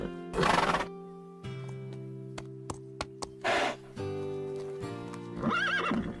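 A horse whinnies and neighs in several loud bursts, with sharp hoof clops and steady droning tones in between, in a cartoon setting.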